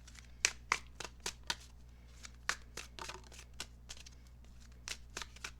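Tarot cards are shuffled and drawn, giving a run of crisp, close flicking snaps at an uneven rhythm, several sharper riffles among softer slides, over a faint steady hum with no talking.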